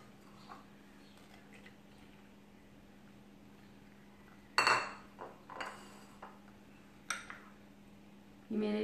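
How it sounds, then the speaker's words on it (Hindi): Cooked macaroni tipped into a bowl while making a macaroni salad, heard as a sudden clatter of utensil against dish followed by several lighter clinks and taps in a quiet kitchen with a low steady hum. "अब मैं इसमें ये जो मैंने मैक्रोनीज रखे हुए थे इसको मैं ऐड करूँगी।"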